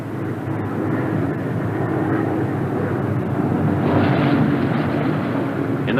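A Republic P-47 Thunderbolt comes in for a normal three-point landing, its engine a loud, steady, close drone that swells a little toward the end, with no talk over it.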